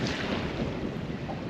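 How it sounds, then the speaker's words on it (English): Wind blowing steadily over open water from a fishing boat on a blustery late-winter day, a constant broad rush with gusty buffeting on the microphone and no voices. "It's windswept at the moment"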